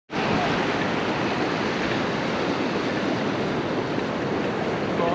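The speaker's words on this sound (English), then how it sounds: "There, in that little reef where the waves are breaking." Steady, loud rush of waves breaking on a reef at a sheltered beach, a dense continuous wash of surf with no pauses and no voices.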